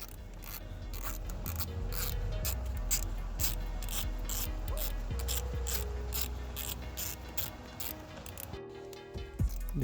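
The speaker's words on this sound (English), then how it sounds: "quarter ratchet with a T30. Okay, you're gonna just place it inside. Make sure it grabs, and then just loosen it." A quarter-inch ratchet with a T30 bit loosens a bolt on the clock spring of a 2006-2013 Lexus IS250/IS350, clicking in a fast, steady run of pawl ticks, close and continuous, then slowing with a few final clicks.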